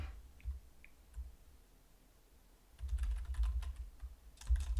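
Bursts of computer keyboard typing, quick clustered key clicks in two short runs separated by a pause, close and fairly quiet against a soft room hum.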